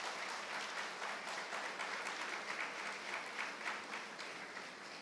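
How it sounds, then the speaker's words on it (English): Audience at a graduation day ceremony applauding the teachers on the dais, a sustained, even wash of many hands clapping at moderate distance, with no voices standing out. "the next round of applause should go to the teachers who are on the dais"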